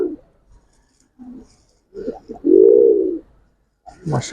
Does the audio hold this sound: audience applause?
no